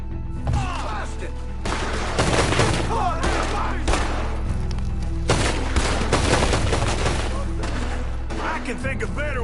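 PS4 video game firefight with loud, dense bursts of gunfire coming in several waves, shots overlapping and echoing close by, with voices talking over the action.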